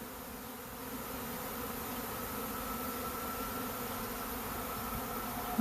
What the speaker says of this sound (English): Not a bad little swarm.